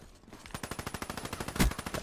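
Rapid automatic gunfire in Call of Duty: Black Ops 3, a fast regular string of shots ending in one heavier, booming blast; loud and close, with no talk.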